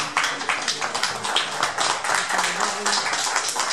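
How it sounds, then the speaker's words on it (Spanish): Audience applauding after a lecture in a hall, a close crowd of mixed claps forming a busy, steady patter with a few voices murmuring underneath. "Le pedimos un fuerte aplauso a todo el público"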